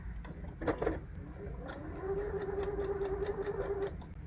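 A sewing machine running steadily with a rapid mechanical stitching whir, preceded by a few brief clicks and handling sounds, close and clear with no talk.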